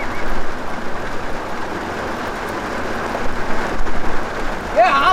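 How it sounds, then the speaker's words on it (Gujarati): Heavy rain pours down in a steady, loud, broadband hiss with occasional heavier gusts of drumming, continuous from start to finish. "એ આમ જો ટપુ દાદા એ વરસાદ કેટલો આવે છે. વરસાદ છે."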